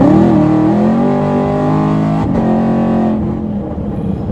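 A tuned, cammed Chevy Camaro SS with an 8-speed gearbox accelerating, giving a loud, steady engine drone that climbs in pitch, breaks at a shift, then fades somewhat, heard from inside the car.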